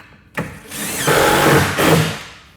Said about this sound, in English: go ahead and screw that in